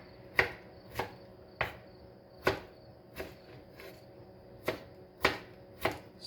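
A knife dicing blanched, peeled tomatoes on a board, with distinct chops falling at an uneven, unhurried pace, about nine in all, close and clear over a faint background hum.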